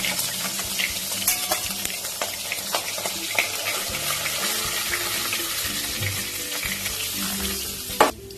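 The remaining katla fish fry in hot oil in a pan, a close, loud crackling sizzle with scattered spatters and pops and a sharp knock near the end; nobody talks.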